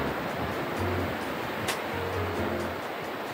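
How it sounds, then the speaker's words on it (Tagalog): Sea waves break on a rocky shore with no sand, making a steady wash of surf. Light wind buffets the microphone, and the whole scene is faint and continuous. "Tapos humahampas na yung mga alon,"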